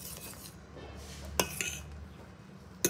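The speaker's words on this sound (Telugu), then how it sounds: "బాన్విట వేయగానే మీరు ఒక 2 సెకండ్స్ ఇలా మిక్స్ చేసి" Oats mixed with Bournvita in a pan, heard as a soft background simmer with a few sharp clinks of a spoon against the metal pan, close and fairly quiet.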